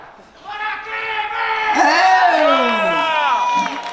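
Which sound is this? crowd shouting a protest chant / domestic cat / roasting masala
crowd shouting a protest chant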